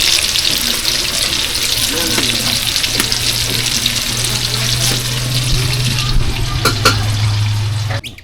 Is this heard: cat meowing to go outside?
no